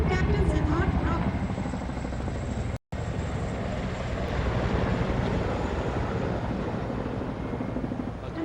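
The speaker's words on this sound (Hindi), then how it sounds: "Mi-35 और 4 अपाचे हेलीकॉप्टर्स विग फॉर्मेशन में उड़ान भरते हुए" Continuous droning rotor and engine roar from one Mi-35 and four Apache helicopters flying in wing formation over the Republic Day flypast in New Delhi, steady and fairly loud, with a voice speaking over it.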